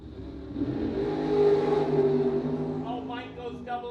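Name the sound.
drag racing car accelerating down the strip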